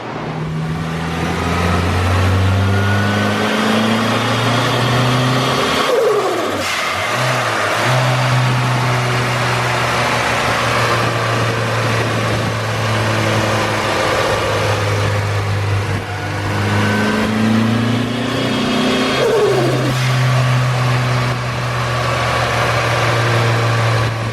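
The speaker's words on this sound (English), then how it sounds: "And then we'll start doing some full throttle runs." A turbocharged Honda Integra engine on full-throttle runs during tuning and break-in, roaring loud and close with a steady drone broken by rising rev sweeps around the middle and near the end; no talking.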